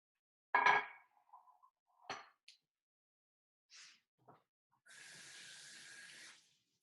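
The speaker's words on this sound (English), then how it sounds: "rinse your hands" Water runs from a kitchen tap for rinsing greasy hands after oiling a baking dish, with a few brief splashes and clinks first, then a steady close rush of flowing water lasting over a second.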